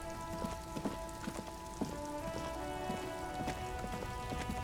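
Steady rain in the video game Disco Elysium patters softly over a quiet ambient hum, with scattered droplet taps and occasional faint footsteps, low in level throughout.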